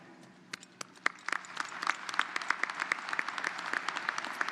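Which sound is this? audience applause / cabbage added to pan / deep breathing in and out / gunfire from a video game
audience applause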